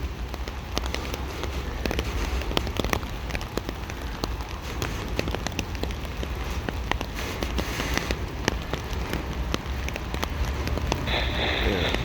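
Steady rain from a passing thunderstorm pours down outdoors beside a railway line, a dense unbroken hiss of drops on surfaces filling the whole stretch with no voices.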